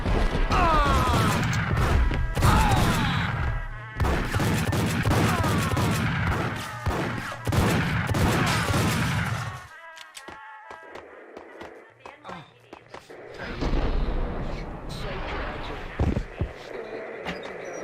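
Rapid gunfire from the PC game Max Payne crackles in dense bursts up close, then drops to scattered shots and clatter, with game voices and in-game sound layered throughout.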